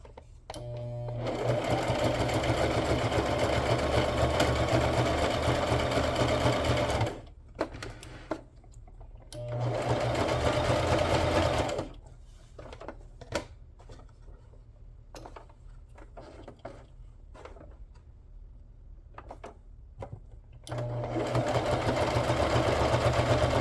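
An electric sewing machine stitches a zigzag around the edges of a fabric ephemera box in loud steady bursts of rapid whirring, separated by quiet pauses filled with faint handling clicks.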